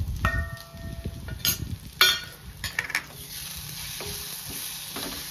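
Masala spices roasting in hot oil for masala vaangi (Maharashtrian stuffed brinjal), a steady soft sizzle with scraping stirs and a few sharp spoon clinks against the pan, close and alone.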